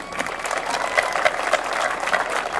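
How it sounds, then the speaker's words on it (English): Audience applause at a field dedication ceremony, a steady wash of many hands clapping at moderate distance, sustained evenly for a couple of seconds with a few sharper claps standing out. "we'd like to give you a round of applause as well"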